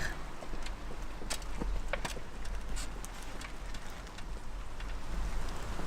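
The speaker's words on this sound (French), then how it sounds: "Là il commence à bien pleuvoir quand même." Steady rain patters down with scattered sharp drops and crackles, a constant wash of noise with no talking.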